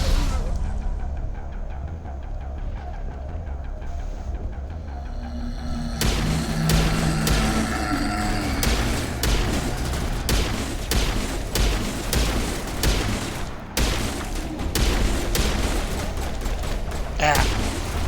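Battle sounds in Mass Effect, with a grenade blast followed by sustained rapid gunfire and booming impacts, loud and dense and continuing for the full span.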